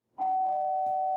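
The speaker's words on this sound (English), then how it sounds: "our negotiator fixes her hair and rings the doorbell" A single doorbell tone from the video game Z.A.T.O. rings out clean and sustained, a bright electronic chime holding steady after a quick onset, with no voices.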